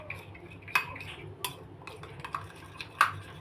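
A spoon stirs homemade pizza sauce in a bowl, giving sharp, scattered clinks and taps of metal against the dish over a low, faint background, each knock brief and close.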